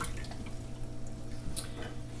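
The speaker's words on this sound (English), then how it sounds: "let me wash my spoon" A spoon rinsed under running tap water in a home kitchen while making potato salad, with a steady faint trickle and splash and a few drips, no talking.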